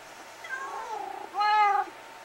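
A black cat in Minecraft gives two meows, a softer wavering one followed by a louder, clearer one, close and alone against a quiet background.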